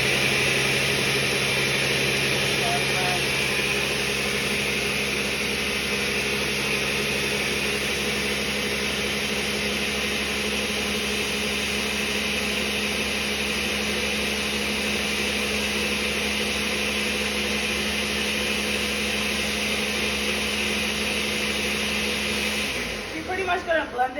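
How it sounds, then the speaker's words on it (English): An electric blender whirs steadily and loudly for over twenty seconds while blending sofrito of garlic, onions and olive oil, then stops abruptly at the end. "So now let's just blend this baby up."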